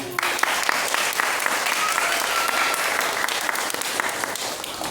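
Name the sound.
applause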